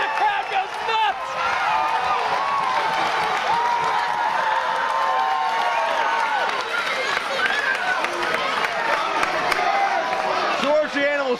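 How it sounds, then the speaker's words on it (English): A wrestling crowd at the IWC Night of Legends 2009 event cheers and roars steadily throughout, a loud sustained wash of voices with a commentator talking over it. "And the crowd goes nuts."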